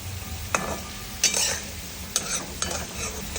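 Potatoes fry in hot oil in a kadhai for Vidarbha-style sabudana khichdi, with a steady sizzle broken by four sharp scraping stirs of the spatula against the pan. No one speaks.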